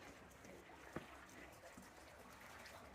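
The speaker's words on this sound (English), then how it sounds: "The sound of the bubbling water." Natural spring water bubbles at Jackson Springs, North Carolina, at night: a steady, close hiss of trickling and gurgling with no pauses and a single small tap partway through.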